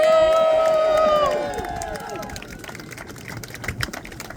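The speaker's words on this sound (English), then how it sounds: "Give a round of applause for George Washington." A loud whooping cheer from protesters outside the US Capitol in Washington, DC trails off into steady crowd clapping and scattered voices, fading to a lighter patter of applause.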